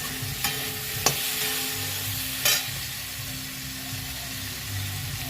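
Fenugreek greens fry in a pan with turmeric and a little salt, making a continuous even sizzle broken by a few brief utensil taps and scrapes against the pan.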